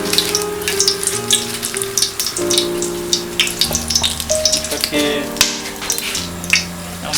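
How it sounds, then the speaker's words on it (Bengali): Cardamom pods dropped into nearly hot oil for meat pulao, giving a steady crackling sizzle with bursts of spattering throughout, close and fairly loud with faint voice-like traces underneath. "আমরা দেখতে পাচ্ছি তেলটা প্রায় গরম হয়ে গেছে। আমরা এখন এলাচি একটু ঢেলে দিলাম।"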